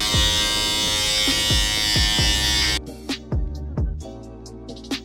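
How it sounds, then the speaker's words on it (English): Electric hair clippers buzz steadily and loudly close by while shaving the side of a head, then the motor cuts out, leaving a few soft handling sounds. "then I will shave the side of it from here"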